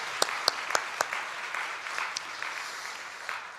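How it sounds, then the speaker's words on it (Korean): A church congregation at an early-morning service gives a round of applause, a few distinct sharp claps at first that blend into a soft, steady patter heard from some distance. "예, 박수 한번 합시다."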